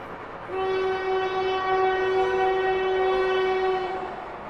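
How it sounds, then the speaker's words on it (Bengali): A loud, sustained train horn blares steadily as a train rushes close by, rumbling throughout, then begins to fade. "আমাদের পাশ দিয়ে ট্রেনটা দ্রুত গতিতে শব্দ তুলে ছুটে যেতে লাগে"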